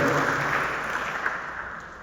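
Audience at a book presentation applauding in a dense, even wash of clapping that slowly fades toward the end, heard alone at moderate distance.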